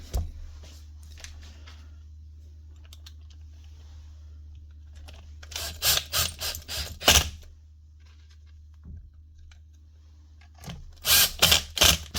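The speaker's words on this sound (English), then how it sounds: "press it down because that bearing has to go on to the holder. And I screw that down." Hand screwing and tool handling while fastening a bearing holder during repair of a broken power tool, heard as several short bursts of close scraping, clicking and rattling separated by quiet pauses over a low steady hum.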